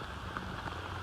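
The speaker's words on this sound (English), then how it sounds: "It may be raining and we had to put our rain jackets on" Rain falls on the Buckeye Trail, a soft, steady patter of drops forming a faint, even hiss with no voices.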